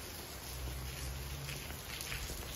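Steady rain falling outside at a safari estate, a dense even hiss of drops with a low hum underneath, constant and fairly close with no talk.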